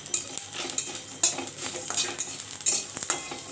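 Fennel seeds dry-roast in a pan as a utensil stirs and scrapes them, making repeated close metallic clinks and scrapes over a faint sizzle.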